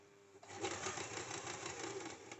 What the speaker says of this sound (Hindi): ये देखिए यहाँ तक सिलाई कर लिया